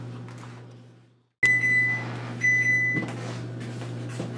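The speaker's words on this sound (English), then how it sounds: "Now, I'm going to put it in my oven for 20 to 25 minutes." Brownies go into a kitchen oven: a humming appliance cuts out, then a door thuds, electronic beeps sound twice and a steady fan hum continues, close and moderately loud.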